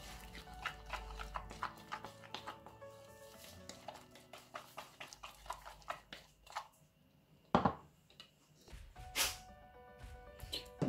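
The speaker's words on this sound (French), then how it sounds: "Le chien qui éternue juste à côté," A dog sneezes once, sharply, just beside a kitchen table where slime is being mixed, the quick burst standing out among soft tapping and stirring clatter.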